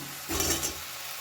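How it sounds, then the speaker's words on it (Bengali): Fried potatoes are tipped into sizzling spice paste for a paneer dalna, giving a brief louder burst of sizzle and scraping stir before settling back to a soft, steady fry. "এখন আমি এর মধ্যে দিয়ে দেবো ভেজে রাখা আলু"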